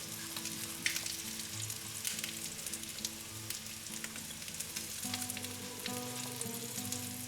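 Besan roti batter fries in oil in a frying pan with a continuous close sizzle and crackle, while a low musical tone plays underneath.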